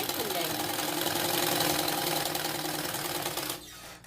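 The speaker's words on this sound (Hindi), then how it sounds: "देखिए सिलाई लगा रही हूँ उसको।" A sewing machine stitches a lined blouse, running at a steady, rapid whirring rhythm close by for several seconds before stopping abruptly near the end.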